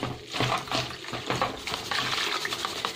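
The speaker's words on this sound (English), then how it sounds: "give it a good rinse until all the water is washed out" Tap water runs steadily over softened onions held in a sieve, a continuous broad splashing rinse with uneven surges, close and fairly loud, with no voices.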